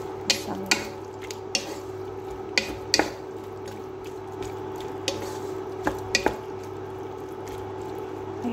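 Masala is stirred in a cooking pot: soft wet squishes and scattered spoon clicks against the metal over a low steady background hum.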